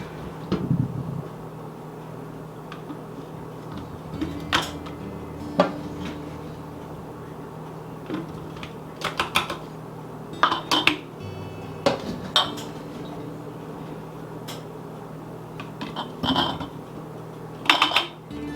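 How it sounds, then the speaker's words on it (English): Glass canning jars clink and clatter against each other and a sink during washing for sweet potato canning, with scattered bright knocks and chinks over running water and a low steady hum. "I may need to wash a few more."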